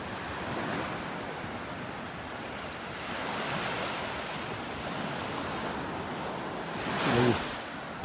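Waves break on a sandbar off a North Naples, Florida beach as the tide slowly goes out. The surf washes in a steady, distant roar that swells and fades, with wind buffeting the microphone and a louder gust near the end.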